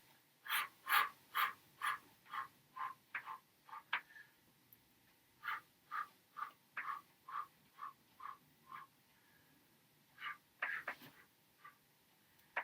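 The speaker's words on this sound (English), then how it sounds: "Power breathing." Rhythmic sharp exhalations during a Pilates single-leg exercise, a steady train of short puffed breaths repeating about twice per second, close and fairly quiet, with a brief pause midway before the pattern resumes.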